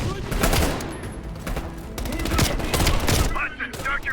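Heavy machine gun fire in Call of Duty: Black Ops Cold War, loud dense bursts of gunfire in an intense battle scene, with other combat noise mixed in throughout.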